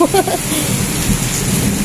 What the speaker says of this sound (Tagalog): Ayan, umuulan po.